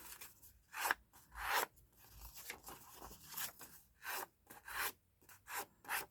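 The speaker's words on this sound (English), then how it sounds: "Just get a nice crease just so it will tear nicely" Folded journal paper page being creased, quiet rubbing and rasping strokes in short bursts, about eight passes in a few seconds, close and soft with no talk.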